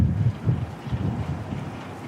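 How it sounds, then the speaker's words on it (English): Strong northerly wind buffeting a microphone outdoors at Christchurch Airport, New Zealand, with loud irregular low gusts and rumbles that surge and ease continuously. "Got a really strong northerly here today"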